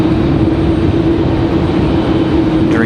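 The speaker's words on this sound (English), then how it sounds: "The Dreamliner sounding good as they finally get to the gate" Boeing 787 Dreamliner taxiing to the gate at Raleigh-Durham International Airport, a steady loud engine whine and rumble holding level throughout with a firm tonal hum, no talk.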